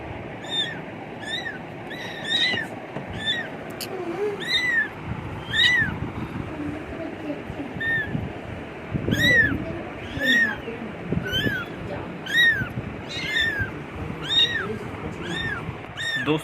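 Several small kittens meow repeatedly, high thin calls coming one after another throughout, some overlapping, close by with a low background rumble.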